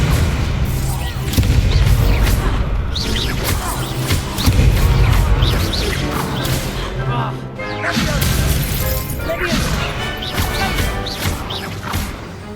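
Spell blasts in a Hogwarts Legacy video game duel, with loud, repeated explosive booms, crashes and whooshes that follow one another closely, while voices shout over the barrage.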